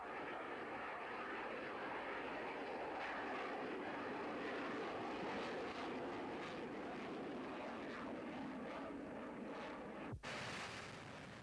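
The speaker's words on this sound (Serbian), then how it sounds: "Posle ove figure usledit će upravo demonstracija minimalne brzine kojom F-16 može da poleti." An F-16 fighter jet roars through a low-speed takeoff demonstration at the Farnborough 1994 air show, a loud continuous engine rumble with wind buffeting that fills the whole stretch before cutting off abruptly near the end.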